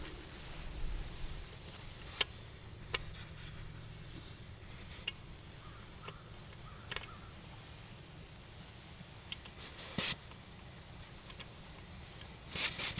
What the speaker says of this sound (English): So that valve stem must be toast.